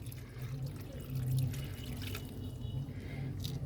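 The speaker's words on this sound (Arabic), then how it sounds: "وبعد كده هحط عليها مج ميه كده" Water trickles and splashes softly from a mug into a pan, a steady low pour with light dripping, fairly quiet and close.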